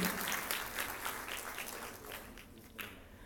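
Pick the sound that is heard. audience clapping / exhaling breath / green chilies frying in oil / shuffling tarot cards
audience clapping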